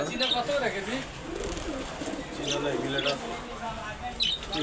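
Pigeons, khaki and Bagha breeds kept in pairs, coo steadily in a pigeon shop in Uttar Jatrabari, with a voice talking over the soft, continuous bird sounds.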